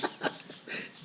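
A dog whimpers in a few short, high, breathy whines close by, faint and brief, with no talk over them.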